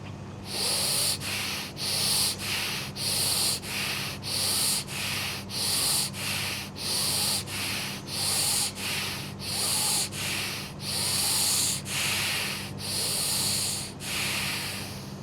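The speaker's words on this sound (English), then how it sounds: "And now we're going to do 10 reps quickly in and out through the nose." Quick, forceful breaths pumped in and out through the nose in a steady, even rhythm during a morning breathwork routine, about a dozen sharp rushes of air close to the ear with no talking.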